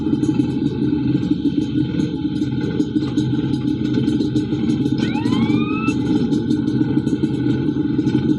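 Fire truck in GTA San Andreas idles with a constant engine drone, then its siren kicks in near the end with a pair of rising wails over the engine noise.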